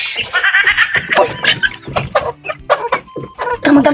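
A chicken clucks in quick, loud, close bursts, with short gaps and some laughter-like voices mixed in.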